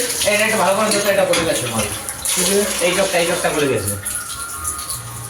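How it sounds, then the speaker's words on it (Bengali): Meat, dried red chillies and whole spices are washed under a running tap, a continuous close gush of water while a voice talks over it. "ওই যে এইসব ধোয়া টোয়া হচ্ছে।"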